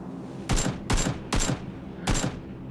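Four loud, sharp gunshot bursts ring out at an even pace as a player in PUBG fires at a vehicle's wheels. No one speaks over the shots.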